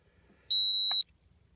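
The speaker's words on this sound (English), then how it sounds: "Hold select until it beeps." Sharp single electronic beep from a Yashio Factory Water Temp V2 gauge, lasting about half a second, loud and close over a quiet background.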